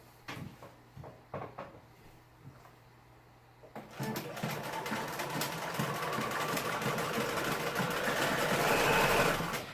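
A Bernina 1080 sewing machine sews with a slightly lengthened stitch, rising from a few soft clicks and taps into a steady, close, whirring run that grows a little louder toward the end, with no talking.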